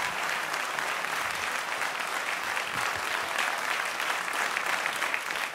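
Sustained applause for a big band at a military youth award ceremony, an even, continuous crowd clapping heard from a distance and held steady throughout.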